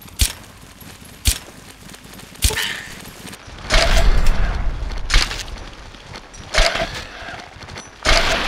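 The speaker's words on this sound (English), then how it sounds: "I need to shoot these people" Gunfire from shooting people in modded Fallout 3, sharp isolated shots at irregular intervals, mixed with a burst of rumbling impact noise partway through, fairly loud and close.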